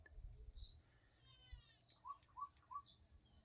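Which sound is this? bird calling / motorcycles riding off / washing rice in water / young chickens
bird calling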